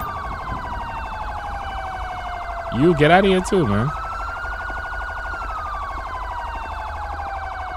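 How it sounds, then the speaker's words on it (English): A police car siren in the video game GTA 5, a slow rising and falling wail sweeping steadily across the whole stretch, with someone speaking briefly over it midway. "I don't know who still have their siren on. I think it's mine"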